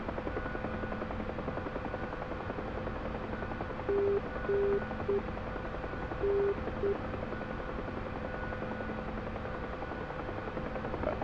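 Huey helicopter cockpit in the DCS flight simulator, a steady droning rotor and engine hum throughout, with a few short repeated electronic beeping tones sounding in the middle.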